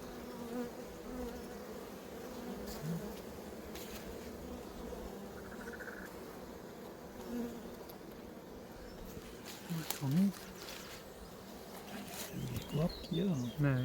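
Honeybees buzz steadily around an open hive frame in a wild-swarm apiary, a close, continuous drone with passing individual bees and occasional handling clatter, while a person talks at times.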